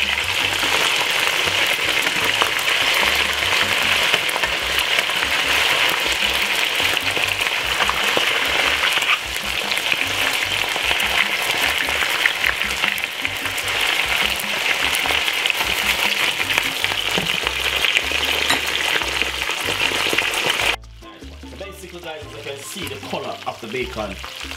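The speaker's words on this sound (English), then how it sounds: "Make sure you pan fry the bacon properly." Bacon sizzling and crackling steadily in a frying pan for a breakfast of fried egg and bacon, loud and continuous and heard close, before it drops abruptly to a quieter hiss near the end.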